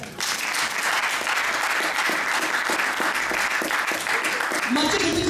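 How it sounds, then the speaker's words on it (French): A church congregation bursts into loud, sustained applause, dense clapping from many hands filling the room evenly for several seconds, with a few voices mixed in. "Acclame très fort pour la parole."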